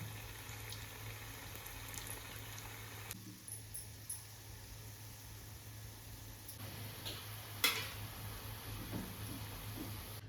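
Kala jamun fry in oil over a medium gas flame, making a faint, continuous bubbling hiss with occasional soft ticks and one brief sharper clink.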